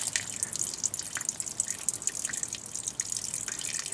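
Water drips steadily inside the trunk of a 2003 VW Passat W8 during a leak test, a quick run of small, bright, close drops falling at an uneven pace, with no voices.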